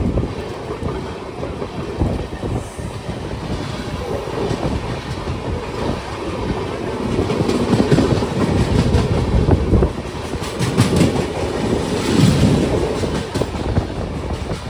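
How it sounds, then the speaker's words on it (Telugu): The Brindavan Express train passes at full speed, a loud, sustained rumble with rhythmic clickety-clack of wheels and rushing wind noise that swells and continues throughout, with no talk over it. "ఏదో ట్రైన్ అయితే చూడండి ఫుల్ స్పీడ్లో అయితే వస్తుంది. ఏం ట్రైన్ చూద్దాం. ఇది బృందావన్ ఎక్స్ప్రెస్ ట్రైన్."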